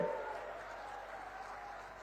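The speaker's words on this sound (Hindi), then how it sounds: "जोर से ताली बजाइए" Crowd applause at an outdoor political rally in Korba, a broad, moderately distant wash of clapping that starts strongest and gradually tapers off, with no clear speech over it.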